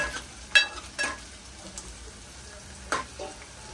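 Garlic tossed into onions frying in a pan, a soft background sizzle broken by a few sharp clicks and clatters of utensil on pan, no speech.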